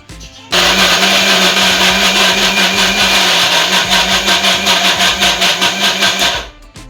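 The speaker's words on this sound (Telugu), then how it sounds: "కొంచెం కొంచెం పాలు పోసుకుంటూ మిల్క్ పోసుకుంటూ మనము మనం ఇట్లా మిక్సీ పట్టుకోవాలన్నమాట" An electric mixer grinder whirs loudly and continuously, blending cake batter with milk, its motor starting abruptly, holding a strong pulsing drone for about six seconds, then winding down.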